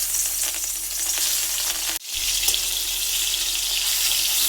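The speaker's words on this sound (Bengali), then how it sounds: "এখন মাছগুলি ভেজে নেবে" Rohu fish pieces rubbed with salt and turmeric fry in hot oil in a wok, producing a loud, continuous close sizzle with one brief break midway.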